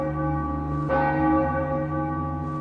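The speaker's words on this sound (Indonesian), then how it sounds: "mendengar lonceng tanda bahaya" A village alarm bell rings with sustained, layered metallic tones, a fresh strike adding brightness about a second in, the ringing carrying steadily throughout.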